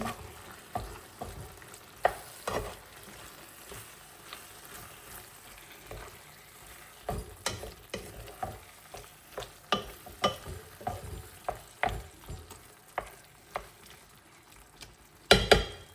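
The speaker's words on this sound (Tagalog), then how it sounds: "So, haluin muna natin." Zucchini with corned beef, salt, pepper and MSG being stirred in a hot pan: a soft, steady sizzle broken by repeated scraping and clinking strokes of the utensil, close and fairly quiet.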